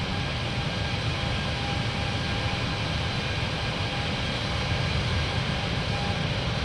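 A Cathay Pacific Cargo Boeing 747-8F takes off in Microsoft Flight Simulator 2020, its engines a steady, broad, loud roar held throughout without variation.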